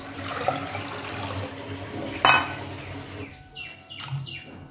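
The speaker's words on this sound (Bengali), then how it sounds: "এই যে এটার মধ্যে দিয়ে দিলাম জল" Water splashing into a pot of chickpea lentils (chholar dal) as it cooks, a short burst of pouring and rushing water with faint bird chirps in the background.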